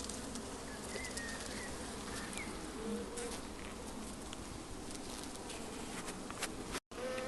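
Honey bees buzz around a small hive opened for inspection, a faint, continuous droning hum with no breaks.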